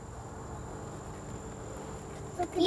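Honey bees buzz around an opened hive at the Winnie Palmer Nature Reserve apiary, a faint, steady insect drone that holds throughout with a brief louder rustle at the end.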